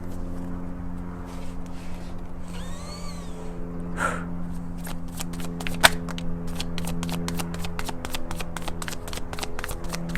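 A tarot card deck being shuffled up close, with a long run of quick, crisp riffling flicks over a steady low background hum and no talking.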